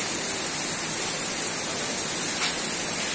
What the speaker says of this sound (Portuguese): veja a chuva que está caindo aqui na cidade mais alta do Rio Grande do Norte